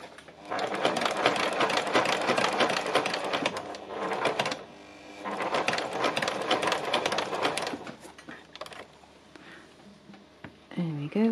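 A sewing machine runs stitching a garment in matching thread, whirring in fast rhythmic bursts that stop and restart twice across the span, fairly close and steady, with a brief rustle near the end.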